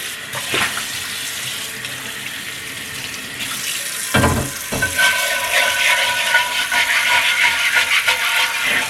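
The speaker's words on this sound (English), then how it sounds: "Give this a rinse off and see what we ended up with." Running tap water rinses a rust-stripped cast iron pan at a sink after electrolysis, with a steady splashing stream that grows louder and busier as the pan moves under the flow.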